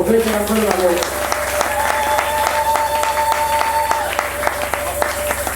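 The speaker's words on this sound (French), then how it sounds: "Applaudissez pour le Seigneur." A church congregation applauds during a Sunday sermon, a steady dense wash of clapping that carries through the whole stretch, with a voice speaking briefly at the start and sustained tones ringing over the crowd.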